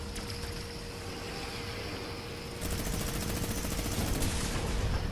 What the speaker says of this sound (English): I decided shooting him with the laser.